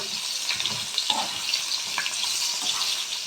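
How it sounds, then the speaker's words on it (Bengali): Boiled cauliflower, with potatoes, fries in a pan with a steady close sizzle and hiss, broken by occasional soft stirring scrapes and small pops. "কপি এগুলো একটু ভেজে নেব।"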